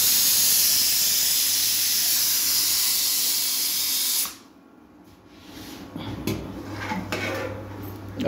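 Steam hisses steadily from a pot of boiling potatoes for about four seconds, then cuts off, leaving quieter clinks of pots and utensils.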